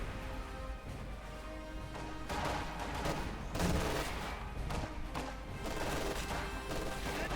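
Small-arms gunfire in the real-time strategy game Company of Heroes 2, scattered cracking shots and bursts mixed into a dense, steady battlefield din, moderately loud throughout.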